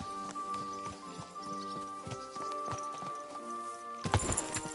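Horse hooves clip-clop in the medieval game Kingdom Come: Deliverance 2, a steady trotting rhythm of close, fairly quiet hoofbeats over a low ambient tone, ending in a louder jostle of sounds.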